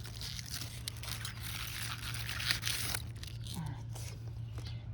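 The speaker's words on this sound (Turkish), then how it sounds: "kuru yapraklarını çekmeye çalışıyorum çünkü kötü görünüyorlar" Dry leaves being pulled from newly planted succulents in a garden, giving soft tearing and crinkling rustles over a steady low hum, close to the microphone.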